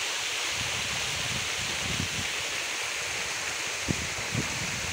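Water falls and splashes steadily near a water tank, a broad continuous rushing wash that holds at an even loudness, with a few faint knocks and no speech.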